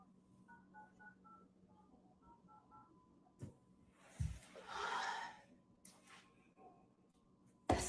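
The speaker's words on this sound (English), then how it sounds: "let me call this phone." A phone call is dialed, with a quick series of soft keypad tones and then a few sharp breaths and rustles. There is no talk.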